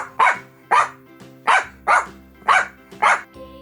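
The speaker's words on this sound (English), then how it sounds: "D for dog." A dog barks six times in a sharp, evenly spaced series, each bark short and loud and close to the listener, with near silence between.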